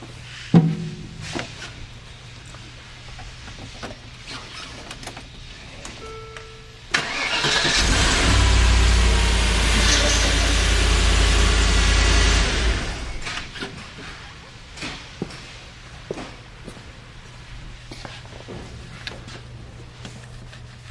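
A Land Rover Discovery Series II engine cranks and fires, then runs loudly for about six seconds before settling back down, with quieter knocks and handling noises before and after.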